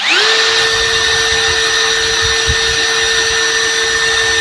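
An MLHY 21V brushless drill spins up to its lowest speed setting with a quick rising whine. A loud, close, steady motor tone follows for about four seconds.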